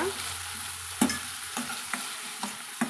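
Chopped tomato stirred and sautéed in a hot pan for a chow chow kurma, a soft steady sizzle broken by four or five sharp spatula scrapes and clinks spaced about half a second apart, close by with no voices.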